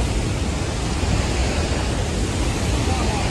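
Floodwater rushing through a Kullu village and into a temple, a dense, unbroken roar that holds steady and close throughout, with wind buffeting the microphone.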